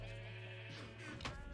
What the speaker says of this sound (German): Ja, hier sind die Schafe.